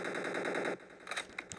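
Rapid automatic machine-gun fire in a shooter video game, a dense burst of close, loud shots lasting under a second, followed by a few scattered sharper clicks and hits.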